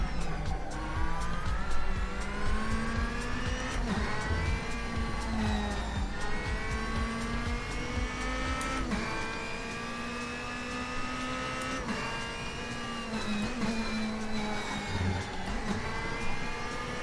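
Race car engine in the RaceRoom racing game, a steady droning whine that rises and falls with throttle and gear shifts over roughly seventeen seconds, with faint house music underneath.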